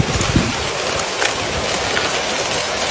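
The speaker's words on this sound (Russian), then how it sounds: "Град." Hail pelting down hard at Lake Kolsay, a dense continuous drumming rattle with sharper impacts scattered throughout, close and loud.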